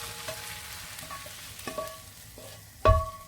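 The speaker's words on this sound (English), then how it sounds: "Then give it a good stir, like mix it all together" Paneer being stirred into a sizzling masala for achari paneer in a kadhai, with soft scraping strokes over a steady fry and a louder clatter near the end.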